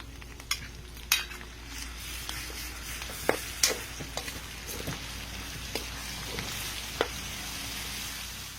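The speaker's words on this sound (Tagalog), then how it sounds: "Haluin lang natin." A utensil stirs sautéed shrimp paste with pepper and salt in a hot pan, a steady sizzle broken by occasional scrapes and clinks against the metal, close by and moderately loud.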